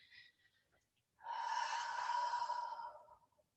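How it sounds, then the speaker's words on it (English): A slow, deep inhale during a yoga session, a smooth, close airy breath lasting nearly two seconds after a short faint puff and a brief pause. "One more deep inhale."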